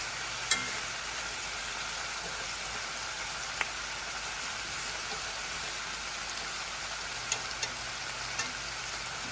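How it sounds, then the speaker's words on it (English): Oxtails browning in the bottom of a pan, giving a steady, even sizzle throughout with a few faint clicks and pops. No one speaks. "You just want it turning brown in the bottom of the pan."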